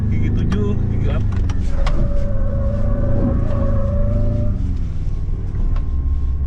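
A Ford Ranger Raptor pickup runs on a dirt course, its engine rumbling steadily and loudly throughout, with a rising whine building partway through as it pulls hard.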